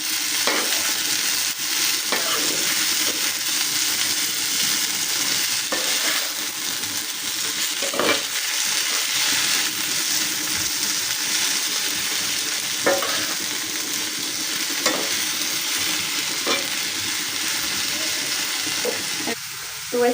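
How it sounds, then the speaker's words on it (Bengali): Leafy greens (saag) fry in hot oil in a pan with a steady, dense sizzle that holds for the whole stretch, broken by occasional stirring scrapes and clinks near the end. "এখানে শাকটা এখন তেলে দিয়ে দিব। তো শাকটা এখন ভেজে নিতেছি।"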